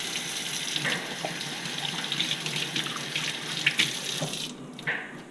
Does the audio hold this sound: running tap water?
yes